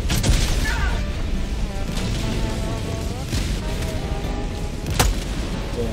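Helldivers 2 gameplay battle with loud, dense explosions and booms layered over chaotic weapon fire, including a sharp blast near the end, while players talk throughout.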